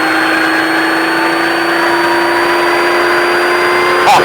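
An off-road vehicle engine drones loudly and steadily close by on an off-road driving course, holding a constant pitch with no clear rise in revs.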